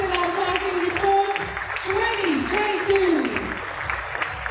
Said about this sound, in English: let's give them a huge, huge round of applause